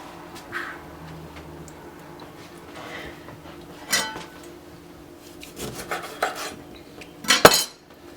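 Chicken salad with onion and lemon juice mixed in a bowl with a utensil, giving soft scraping and rubbing sounds with a few sharper clinks against the bowl, louder near the end, with no talking.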